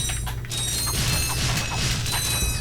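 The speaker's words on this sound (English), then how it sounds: "Let's activate this explosive crate." An explosive crate activates in Ratchet & Clank, giving mechanical clanks and creaks with boomy thumps and a steady high electronic hum underneath, lasting a few seconds with no talking.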